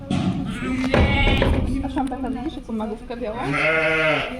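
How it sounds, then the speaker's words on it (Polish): A large flock of rams bleats on a farm, overlapping wavering calls close by and loud, mixed with a person talking over them. "Zobaczcie ile baranów. One się nie kończą. Słuchajcie, jest ich setki."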